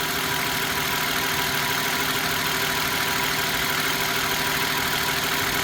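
Idling engine of a 2013 Toyota Sienna minivan, a steady, unbroken mid-pitched hum and whir at constant loudness, close by with no speech.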